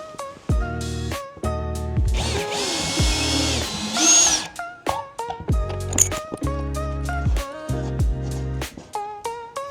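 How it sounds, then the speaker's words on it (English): A power drill bores pilot holes for a bracket during a kitchen renovation, with repeated short whirring bursts close by, rising and stopping in quick succession. "hold it in place while I drill my pilot holes"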